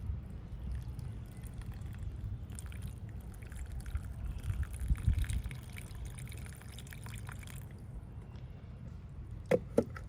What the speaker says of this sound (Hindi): अब ये पानी डालेंगे।